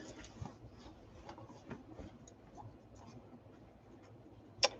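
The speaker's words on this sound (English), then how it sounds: "Let's cut these out." Quiet scissors snip through paper pieces in a series of soft, short cuts with light rustling, ending in one sharper click.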